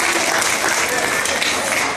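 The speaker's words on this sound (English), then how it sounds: "Please give him a round of applause again one more time." An audience at a Navajo Nation Fair baby contest applauds in a dense, steady burst of clapping that fills the whole moment, with voices mixed in.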